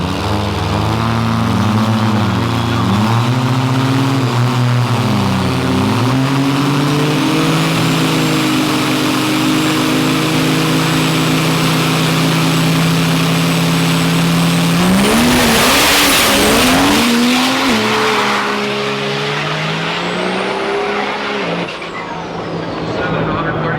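Trucks at a drag race during a fall truck event, engines roaring loud and steady, with a surge of revving and a burst of noise mid-run as they pass, while an announcer talks over it.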